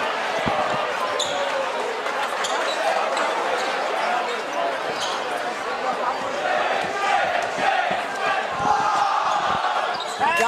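A high school varsity basketball crowd, Xavier against Regis, roars loudly and continuously through a gym, with voices shouting and cheering over one another and occasional sharp bangs.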